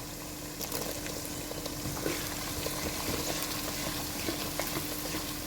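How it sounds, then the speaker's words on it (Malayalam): Garlic and chilli sauté in hot oil for lime pickle, giving a soft, continuous low sizzle with faint bubbling and occasional light crackles, fairly quiet and steady. "വെളുത്തുള്ളിയിട്ട് നന്നായിട്ട് ഒന്ന് വഴറ്റാം"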